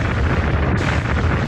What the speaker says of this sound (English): they expand and explode.